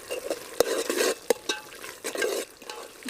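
Yogurt cooks in hot oil in a pan for egg biryani, a soft sizzle punctuated by repeated scraping stirs and sharp clinks of a spoon against the pan, close and moderately quiet.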